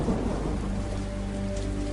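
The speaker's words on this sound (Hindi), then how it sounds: "कैसी बिजली कड़क रही है।" Heavy thunderstorm with steady pouring rain drumming on surfaces and low rolling thunder, a dense continuous roar that stays loud and close throughout, with no voices.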